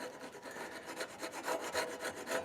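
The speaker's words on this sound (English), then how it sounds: "So I'll drop that saw down in that kerf. I'll raise it up a little bit, and I'll just do short little back and forth cuts." A Japanese ryoba pull saw works a wooden kerf in short, quick back-and-forth strokes, a close, rhythmic rasping of about a dozen even cuts with no talking.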